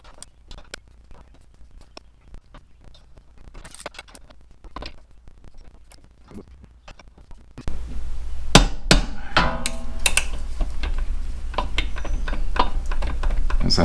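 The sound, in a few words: wrench tightening rear pulley nut on Yamaha V-Star 1300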